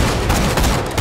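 Dense, loud gunfire from the video game Borderlands 2, a brief continuous burst of overlapping shots lasting about a second.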